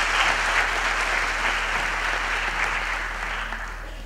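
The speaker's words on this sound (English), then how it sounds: "they really do deserve once more a big round of applause" A graduation ceremony audience on VUT's main campus claps in a sustained, even round of applause, full and close, easing slightly toward the end.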